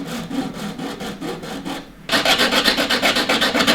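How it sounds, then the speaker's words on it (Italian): Excess solder on N-scale model railway track being filed down with rapid back-and-forth rasping strokes, softer at first, then a brief pause followed by louder, rhythmic filing close to the microphone. "andiamo a smussare quello che è diciamo, l'eccesso di saldatura"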